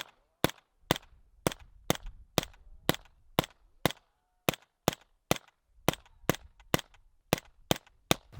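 A suppressed B&T SPC9 PDW fires about sixteen sharp, close shots with a steady cadence. The reports are clipped and snappy and ring slightly after each one, with no talking.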